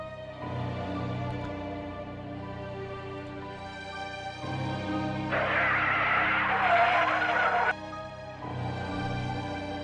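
A car engine drones, then tires skid in a loud, harsh rush for a couple of seconds as the car brakes hard before a head-on crash with a truck, then the engine carries on.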